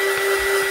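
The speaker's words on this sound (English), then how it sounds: "if you have a heat gun, this is really important to use too" A steady, loud electric heat gun whirs with a constant high whine and rushing air, close and unbroken.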